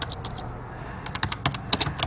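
Quick bursts of keystrokes on a computer keyboard, light close clicking in an uneven rhythm as a message is typed, quiet with no talking.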